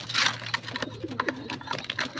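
Racing pigeons at their home loft give soft, low coos and rustling bird calls, mixed with scattered faint background sounds throughout.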